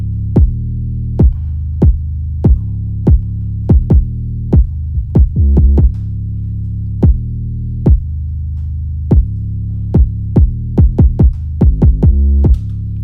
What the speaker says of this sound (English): you will hear the kick and the 808, and that's the punch of the 808